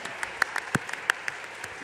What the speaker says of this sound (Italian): Intanto iniziamo con un applauso a Ilaria Gaspari